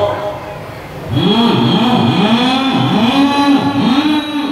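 A voice imitates a loud motorbike with a blocked, modified exhaust, a sustained throaty revving drone that rises and dips in repeated swells, close and loud.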